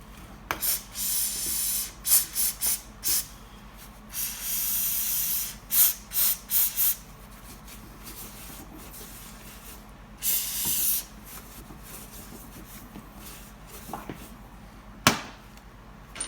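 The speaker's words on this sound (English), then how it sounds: "Brake clean, get the oil out of the hole" Brake cleaner sprays out of an aerosol can to clear oil from a bolt hole on a Chevy Tahoe 5.3 Vortec exhaust manifold, in repeated short bursts and a few longer hissing blasts, loud and close.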